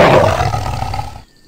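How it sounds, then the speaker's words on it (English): A single tiger roar sounds up close, loudest at the start, then growls and fades steadily over about a second before cutting off. "Tiger."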